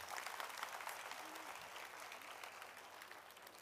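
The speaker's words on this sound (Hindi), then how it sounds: "सुंदर तालियों के साथ धन्यवाद करें।" An audience applauds at a welcome ceremony for a Jamgain pilgrimage marking a 138th arrival anniversary, thanking a legislator for her message. Dense, steady clapping from a large crowd fills the whole stretch at an even, fairly loud level, fading slightly near the end.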